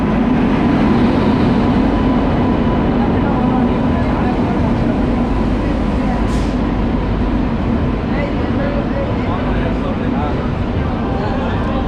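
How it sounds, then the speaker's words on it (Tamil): A train rumbles into Katpadi station steadily with a broad, continuous roar of wheels and carriages, and a brief high squeal partway through. "ட்ரெயின் வந்துடுச்சு."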